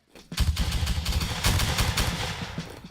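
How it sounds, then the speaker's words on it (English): Heavy, sustained gunfire with cannon fire in a battle video game, a dense continuous barrage of loud overlapping shots lasting throughout, with no talk over it. "Taking heavy gunfire to the face."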